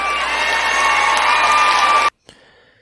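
A large crowd at a Donald Trump political rally in Iowa cheers and whoops loudly and steadily, a dense roar that cuts off abruptly near the end, leaving brief faint noise.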